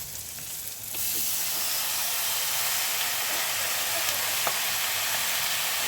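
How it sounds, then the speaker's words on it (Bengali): Greens frying in a pan with shrimp heads and turmeric give a steady, loud hiss of sizzling oil that swells suddenly after a second and holds evenly, with no talking. "শাকটা এখন আমি সময় নিয়ে ভাজতে থাকবো"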